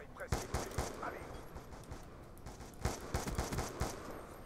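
Semi-automatic assault rifle fire in Call of Duty Black Ops III: sharp single shots in quick irregular runs, dense clusters near the start and again in the second half, over a busy game-world background.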